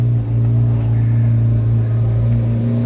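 A 2024 Chevrolet Corvette Z06 with a 5.5-liter V8 idles low and steady as it creeps into a dealership showroom, a loud, close, constant engine drone with no voices.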